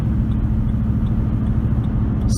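A 2008 Ford Expedition V8 pulling down the street, a loud, steady low rumble heard from inside the cabin throughout, with no voices.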